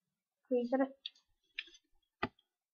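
Computer mouse clicks while setting up a Minecraft modpack launcher, a few sharp isolated clicks following someone speaking Czech in the opening second.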